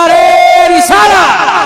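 Crowd at an Islamic religious gathering loudly shouting a brief chanted slogan response, two drawn-out voiced calls in quick succession, close and loud.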